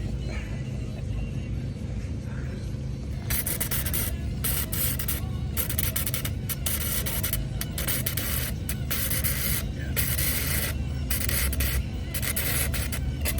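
Arc welding at an outdoor car show in Iola: a steady crackling, hissing buzz that starts after a few seconds and runs in bursts with brief breaks, over constant low background rumble, fairly close.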